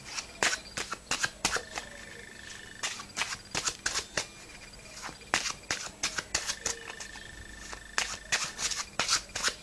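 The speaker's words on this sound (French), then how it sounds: "Alors on prend un paquet de cartes, d'accord? Normal, tout à fait, normal. Alors maintenant on va le mélanger" A deck of playing cards being shuffled for a magic trick, crisp riffling bursts and soft slides repeated in quick uneven rhythm, close up and clear, no talk.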